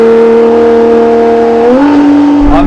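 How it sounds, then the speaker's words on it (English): A V12 Ferrari hypercar engine drones loud and close at steady high revs, then drops pitch as it kicks down a gear, with a brief rising blip at the end. "I'm just unnecessarily kicking down the gears to hear some noise."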